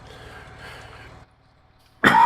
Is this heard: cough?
yes